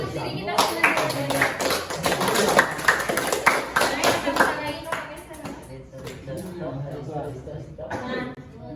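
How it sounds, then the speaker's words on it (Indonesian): A group of children at a guidance session in an Indonesian orphanage clap for themselves, a brisk burst of many hands clapping close by, mixed with chatter and laughter, then fading into scattered taps. "Kita tepuk tangan untuk diri kita sendiri."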